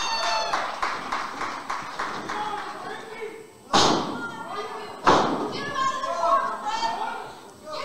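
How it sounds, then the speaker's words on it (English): During a professional wrestling match, two loud heavy thuds of bodies hitting the ring mat stand out against a lively crowd. A commentator talks throughout the action. "But a knee to the midsection stops that in its tracks. Big clothesline there by Michaels."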